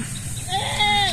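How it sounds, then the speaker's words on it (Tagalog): Hungry farm goats bleat close by in a rural yard near onion fields during a spell of heavy rain, with two or three wavering cries rising over a low background rumble. "Gutom na yung mga kambing."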